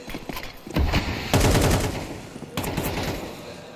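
Automatic rifle sprays in Counter-Strike during an IEM Chengdu 2025 pro match, two loud sustained bursts of rapid gunfire separated by a short pause, with dense layered shots and no talk.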